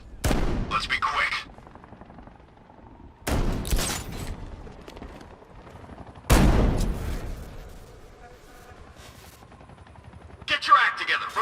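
Three bursts of gunfire in Batman: Arkham Knight strike sharply at roughly one-, four- and seven-second marks, each loud and decaying, separated by quieter game ambience, with voices talking in between.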